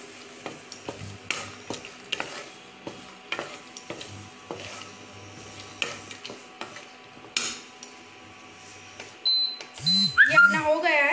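Ingredients dry-roasting in a pan on a home stove, a soft sizzle under repeated clinks and scrapes of a spoon stirring at an uneven pace, close and fairly quiet, with a voice speaking near the end.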